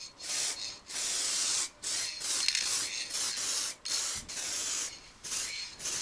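Clear plastic primer sprayed from a can onto a carbon bike frame, a steady breathy hiss in repeated bursts of about a second each with short gaps between, close and without speech.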